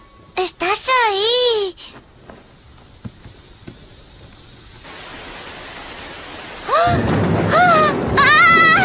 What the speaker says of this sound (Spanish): No pasa nada, Gilbert. Solo es una tormenta.